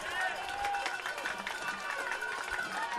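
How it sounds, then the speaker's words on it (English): The home Bearcats crowd cheers and roars at a high school football game, Virginia High against Abingdon, a broad, continuous din under a commentator's voice. "Bearcat crowd getting fired up here."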